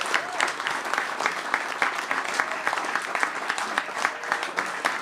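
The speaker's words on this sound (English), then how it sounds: "We applaud you as well." An audience at the end of a Songbird Concerts show claps steadily and warmly, a dense sustained round of applause from a mid-sized crowd with faint voices mixed in.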